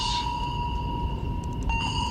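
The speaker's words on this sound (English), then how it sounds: "Sonar might sound like this in the movies" A steady electronic movie-style sonar tone hums throughout, with a bright high ping at the start and faint repeated blips later, over a constant low rumble.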